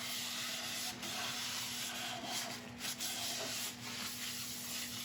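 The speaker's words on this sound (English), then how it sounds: "give it a wipe over with a bit of isopropyl alcohol, just to help remove any loose particles on the surface" Isopropyl alcohol wiped over a freshly turned wooden apple bowl, carved from a cracked apple log, makes a steady close rubbing, sanding-like swish that runs the whole time under a constant low hum, with slight dips in between strokes.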